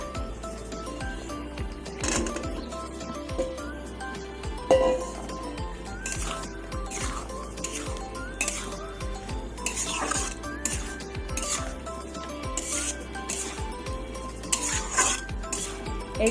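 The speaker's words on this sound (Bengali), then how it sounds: "এবার আমি সেদ্ধ ছোলাগুলো দিয়ে দেবো।" Boiled chickpeas tipped into a pan of spiced masala with ginger for chana masala, then stirred, with repeated spoon scrapes and clinks against the pan, a faint sizzle underneath and steady clatter throughout.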